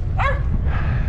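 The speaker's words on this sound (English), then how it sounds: "so that's why I don't like to hear that barking" A dog barks behind a fence in Custer City, Cooke County, Texas: one short, sharp bark cuts over a low outdoor rumble, then only faint background noise remains.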